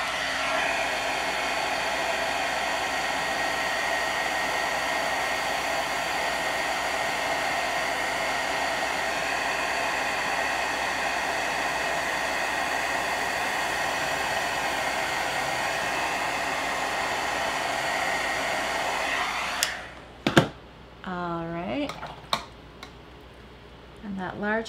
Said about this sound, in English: I'm gonna hit this with my heat tool so then I can do the large heart.